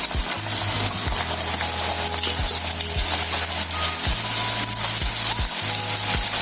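Onion frying with garlic in a pan for a traditional Maharashtrian chival leaf zunka, a steady loud sizzle with repeated scraping stir strokes throughout.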